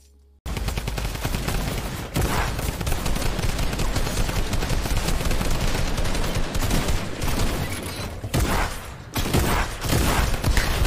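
Dense, continuous gunfire in Fortnite, rapid bursts and shots layered together, loud and sustained with brief lulls.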